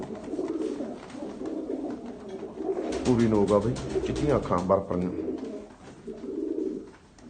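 Punu wali breed pigeons from the Malwa belt coo in low, repeated throaty bursts close by, partly under someone talking over them.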